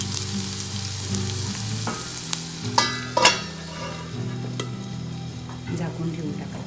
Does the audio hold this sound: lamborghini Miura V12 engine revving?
no